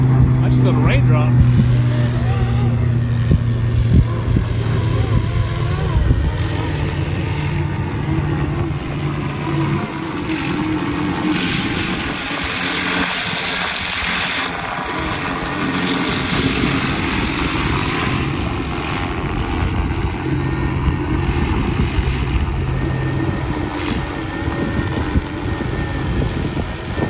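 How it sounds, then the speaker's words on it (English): A RotorScale UH-1D Huey 470-size GPS-stabilized RC model helicopter flies outdoors in gusty wind, its steady rotor and motor drone blending with buffeting wind noise while someone talks throughout. "This little helicopter handles the wind really nice."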